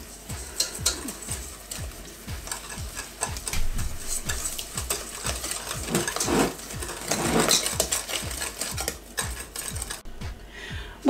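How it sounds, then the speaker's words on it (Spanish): Eggs are beaten with sugar in a bowl for a Greek yogurt sponge cake batter, a quick regular clicking whisk rhythm with some scraping, fairly quiet and close, without speech. "Vamos a batir un poquito."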